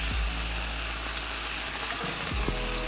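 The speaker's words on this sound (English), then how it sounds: "I had preheated my grill pan, that's why it's sizzling the way it is." Steady, loud sizzling of zucchini slices cooking on a preheated grill pan, a continuous crackling hiss with a few soft clinks.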